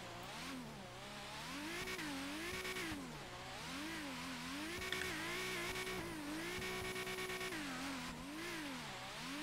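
A turbocharged car drifting, its engine revving loud and close in repeated rising and falling sweeps with steady high-pitched whine and tire noise throughout, no voices.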